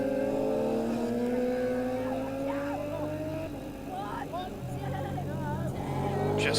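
Classic racing motorcycles, Golden Era Superbikes and GP1 machines, pass on the Mallory Park circuit, engines whining with rising pitch as they sweep by at a distance, under steady commentary.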